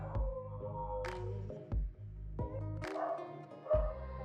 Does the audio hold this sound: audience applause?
no